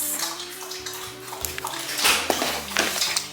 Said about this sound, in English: What you hear is the dog drinking water because they just came back from walking.